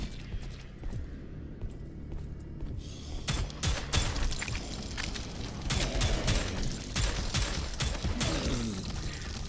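Gunfire aimed at an imp in the Prodeus video game, rapid repeated shots building into a loud, dense barrage over rumbling game noise.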